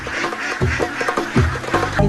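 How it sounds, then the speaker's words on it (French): A flock of sea ducks quacks close by in Quanzhou, a dense overlapping chorus of loud nasal calls in quick irregular bursts with no voices over them. "这就是传说中的海鸭是吗？"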